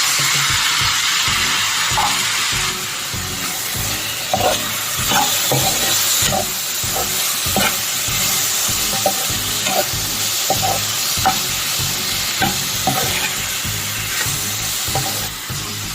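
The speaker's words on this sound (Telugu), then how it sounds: "రెండు టమాటా పెద్ద సైజు టమాటా లేకపోతే మూడు టమాటాలు సన్నగా కట్ చేసుకుని వేసుకోవాలి" Onions and finely chopped tomatoes fry loudly in a pan, a constant sizzle broken by frequent, fairly regular scrapes and knocks of a spoon stirring the mixture.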